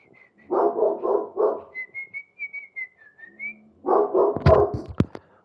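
Dog barking indoors, several sharp close barks bunched near the end, following voice-like bursts and a whistled tone, with no clear talk.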